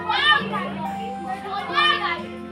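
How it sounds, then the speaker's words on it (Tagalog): Many children play nearby in a noisy residential neighborhood, their voices and shouts rising in two louder bursts over a constant low background hum. "Sobrang ingay po dito sa amin. Ang daming bata po kasi."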